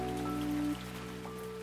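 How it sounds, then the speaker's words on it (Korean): Steady rain patters on surfaces in a garden, a soft continuous wash of drops with a faint hum and tonal background underneath, no voices. "비가 내리고 이렇게 빗물이 부딪혀서 소리가 나고 하는 게 다 자연의 섭리다"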